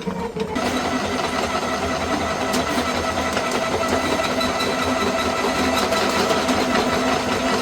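New drain snake machine with its whole cable run out, a loud steady motorized rattle and whir that continues without a break and holds an even level throughout.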